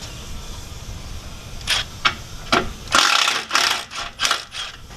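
Ratchet work on a 2017 Ford F350 while removing the shocks during a lift kit install: several bursts of rapid metallic clicking, close and fairly loud, starting sparse and then coming in quicker repeated runs, with no talk.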